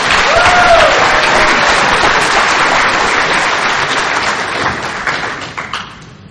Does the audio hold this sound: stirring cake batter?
no